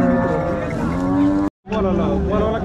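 A Jersey cow at the Modnimb cattle market gives a loud, drawn-out moo close by, broken by a short dropout before the lowing resumes.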